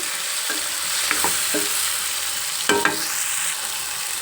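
Broad bean (goruchikkudu) curry is stirred and fried in a pan, with a soft steady sizzle and several close scraping and clattering strokes of the spoon, and no voices.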